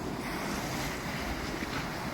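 Sea water churns turbulently near the shore at night in winter, a continuous broadband rush of waves mixed with wind noise on the microphone, steady and fairly faint.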